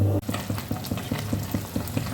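Plum pickle with jaggery being stirred in a pot, giving a steady rhythmic scraping every fraction of a second over a low simmering bubble, close and moderately loud.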